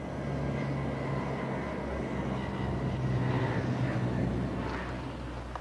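A civilian cargo plane chartered by the U.S. military to fly in rice, fuel and ammunition drones steadily at close range, a continuous engine roar with a faint voice underneath.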